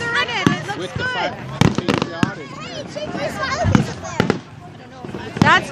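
Canada Day fireworks crack and pop repeatedly at middle distance in irregular bursts, some sharp and loud, beneath ongoing chatter and exclamations from nearby people.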